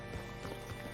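Horse hooves clop steadily at close range in the Red Dead Redemption 2 video game, a brief, faint run of footfalls over a soft background.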